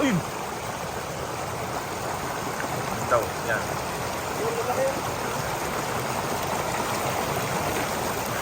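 Fast-flowing river current at night, a continuous broadband rushing wash heard steadily throughout, with a person speaking briefly and occasional faint chirps over it.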